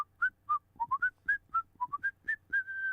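Someone whistles a quick run of short, loud notes close by, about a dozen chirps rising and falling in pitch, ending on one held tone.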